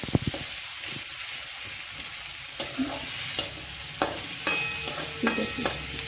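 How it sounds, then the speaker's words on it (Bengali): Onions frying in a pan, a steady sizzle and hiss with repeated stirring scrapes and clinks of a utensil throughout, close and fairly loud, no talking. "পেঁয়াজটা একটু একটু লাল লাল করে ভেজে নেব"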